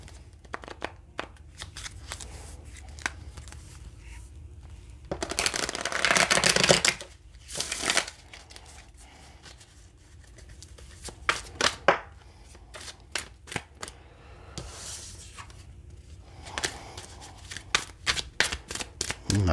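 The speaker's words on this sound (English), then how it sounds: "One more shuffle." A deck of tarot cards is shuffled up close in quick riffling bursts and crisp taps and flicks, with quiet pauses between them and no talking.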